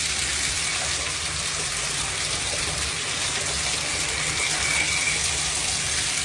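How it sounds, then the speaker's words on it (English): Water gushes steadily from a faucet just after a new installation, a loud continuous hissing rush that stays even throughout with no talk over it. "I'm getting water. I got hot water, I got cold water."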